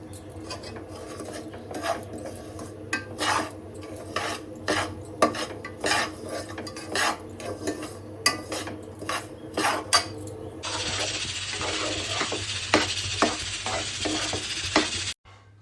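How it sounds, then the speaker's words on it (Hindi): Semolina roasting in a pan for halwa, a spoon scraping and stirring in a steady rhythm with light sizzling, then a louder continuous sizzle near the end, close and with no voices. "अब मैं सूजी भूनती हूँ प्रसाद के लिए।"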